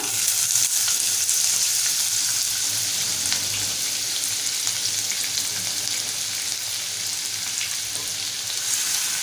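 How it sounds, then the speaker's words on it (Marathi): Chopped onion frying in oil with mustard seeds and cumin gives a loud, continuous hiss of sizzling close by, with faint stirring scrapes beneath, steady throughout and without speech. "आता आपण बारीक चिरेला कांदा घालून घेऊया"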